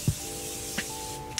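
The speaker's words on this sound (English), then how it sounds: "And I'm going to spray my face with my Morphe setting spray." Morphe setting spray misted onto a face, heard as a few short, close hissing bursts spaced about half a second to a second apart over a steady background hum.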